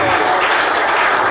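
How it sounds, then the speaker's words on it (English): A high school audience applauds at a special program: a short, loud burst of dense clapping from a close crowd. "Give them a round of applause"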